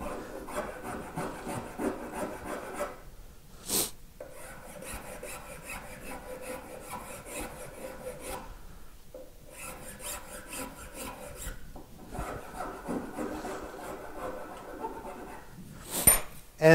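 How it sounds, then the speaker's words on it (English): Hand file worked along the edge of a live-edge walnut countertop, repeated rasping strokes in bursts separated by brief pauses, close and clear with no talking. "Next, I would hit it with the rougher side of the file, then the smoother."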